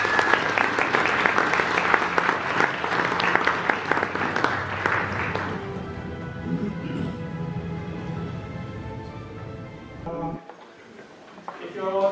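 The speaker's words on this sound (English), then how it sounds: "attendees, give them a big round of applause." Audience applause at an AI bootcamp tech event, honoring the event organizers: a dense, steady clapping from a room of attendees for about five seconds, then thinning into scattered claps that trail off.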